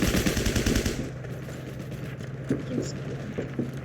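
Gunfire in the video game Heroes and Generals: a rapid, loud burst of shots in the first second, then scattered lighter shots and clatter over a busy background.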